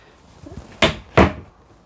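Wardrobe doors in a new Swift Moselle caravan are pushed open, giving two distinct close knocks about half a second apart, with quiet room tone around them.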